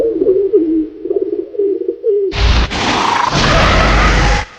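A pigeon inside a house in a Hindi horror radio drama, soft throaty coos for a couple of seconds, then sudden loud bursts of flapping wings and fluttering that run on steadily before cutting off.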